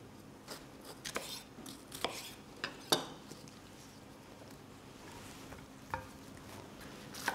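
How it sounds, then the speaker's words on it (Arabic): Yellow bell pepper being chopped at random on a cutting board in a home kitchen, a series of sharp knife taps spaced irregularly, fairly quiet and close, with no talking. "الفليفلة برضو بقطعها بشكل عشوائي"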